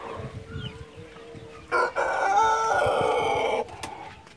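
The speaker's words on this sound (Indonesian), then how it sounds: "sekarang saya berada di kandang ayam pelung milik Bapak Anang." Pelung chickens in their coop, with quieter clucking and a distant crow at first, then a loud, close, drawn-out rooster crow lasting about two seconds before fading back to background clucks.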